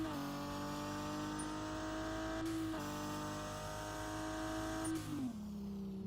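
A car engine in the racing game Revhead holds a steady revving drone at fairly constant pitch, briefly dipping and then dropping lower near the end, moderately loud and alone.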